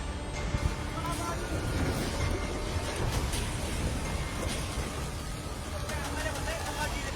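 Heavy rain in Kangra, Himachal Pradesh, pours down as a dense, continuous roar of broadband noise with no clear breaks.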